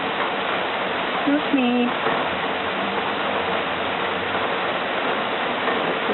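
Heavy rain pours over streets and puddles in Tyumen, a dense, even hiss of falling water that runs throughout, with a brief spoken voice near the start.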